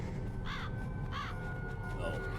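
Ravens caw in the Metal Gear Solid video game: two clear harsh caws and a fainter third, spaced apart over a steady low game-ambience rumble.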